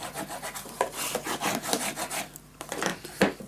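Paper on a scrapbook storage tower is burnished down with a tool in a run of quick, close, scratchy rubbing strokes, broken by a short pause before a few more strokes.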